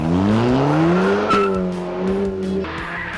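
A hot hatchback pulls away on a track with a sustained engine drone that rises in pitch, joined by a brief tire squeal midway, loud and close throughout.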